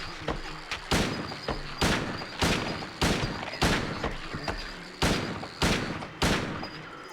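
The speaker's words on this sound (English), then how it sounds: "Hey, I'm shooting bugs over here." Gunshots ring out in the PS2 video game Silent Hill 2, a rapid series of about a dozen sharp, punchy reports at an irregular, fairly quick pace, loud and close over a low background drone.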